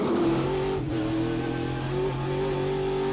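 Trans Am race cars in the TA2 class at Portland International Raceway during a 2024 SpeedTour race, engines droning loud and close with a steady, slightly wavering pitch as the cars run together.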